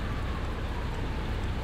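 Steady rain in the City Bus Simulator video game, a continuous even hiss of falling drops with a low rumble beneath, constant in level throughout and with no voices.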